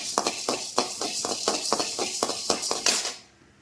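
Coriander seeds dry-roasting in a pan without oil on low heat for a mushroom curry, giving a steady run of light rattling clinks and metallic scrapes as the seeds are tossed and stirred, close and fairly loud, fading out at the end.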